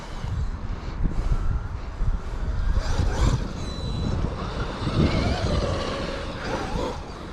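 A Traxxas Maxx V2 RC truck powers out of turns on loose dirt, its motor surging and fading in repeated bursts of throttle over gusty wind noise.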